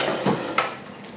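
A desk drawer slides out with two quick knocks and a short scraping rattle of wood and hardware, close and brief.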